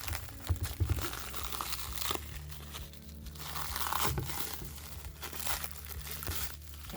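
A well-wrapped tier stand package being unwrapped, its plastic and paper crinkling and tearing close by in steady rustling bursts.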